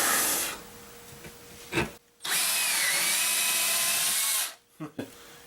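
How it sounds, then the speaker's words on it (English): An old power drill runs loud and steady in two long bursts, drilling through material, with brief pauses and small handling knocks between runs and a hot, smoking motor. "The drill's smoking."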